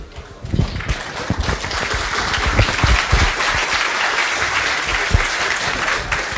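An audience applauds after a conference talk at FOSDEM 2014, sustained and dense clapping from a large crowd that starts abruptly and continues evenly throughout.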